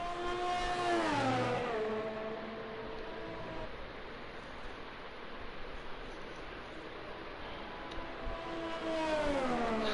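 GP2 race car engine on an out lap at Belgium in a racing game, revving up and down through gear changes, loud at the start, settling to a steady drone, then climbing again near the end.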